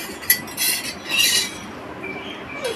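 Metal ladles and spatulas clinking and scraping in a child's pretend cooking, several bright clinks in short bursts close by, with no speech.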